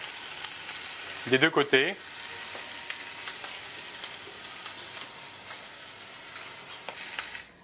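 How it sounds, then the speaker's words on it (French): A suckling veal chop sears in hot oil, a continuous close sizzle and crackle, with a short burst of speech near the start. "It's seared in hot oil."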